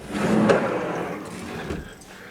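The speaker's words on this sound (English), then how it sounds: "This really neat, these doors slide open." Sliding doors in a painted house roll open with a soft, rumbling glide that fades over about two seconds, close and moderately loud with no talk.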